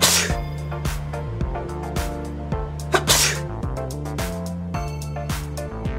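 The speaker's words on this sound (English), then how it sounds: "First, sneezing." Sneezing, heard over steady background music, with a sharp burst standing out briefly among the rhythmic beats.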